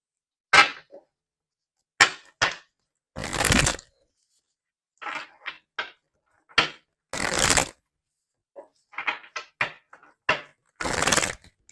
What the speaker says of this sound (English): let's get some more cards to see more of what's going on here.